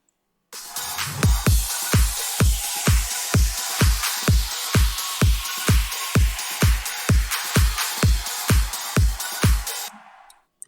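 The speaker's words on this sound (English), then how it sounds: "In the second part of the drop, I add a hi-hat loop" Second part of a progressive house drop brings in a hi-hat loop, open hi-hats and a drum loop. A punchy kick thumps evenly under dense, hissy cymbal patterns for about ten seconds, loud and electronic, with no talking.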